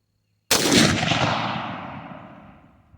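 A single sharp gunshot from a bolt-action rifle upper fired at a range, loud and close, with a long reverberant tail that fades over about two and a half seconds.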